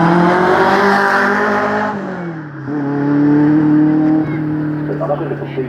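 A Ferrari Challenge Stradale sports car at a sports car festival in Bournemouth passes close by, its engine droning loudly then dropping in pitch as it goes past, with a second engine note rising afterwards.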